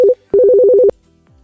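Telephone keypad dialing tones sound while calling an own extension on an IPECS ONE phone system: one short beep, a pause, then a rapid loud run of about eight tones, followed by near silence.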